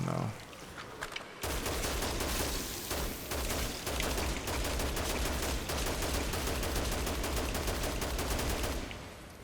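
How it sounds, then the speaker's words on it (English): A heavy machine gun in the video game Dead Rising Deluxe Remaster fires in a long, sustained burst of rapid, loud shots that starts abruptly and runs almost the entire time. "I'm really surprised they buffed the heavy machine gun."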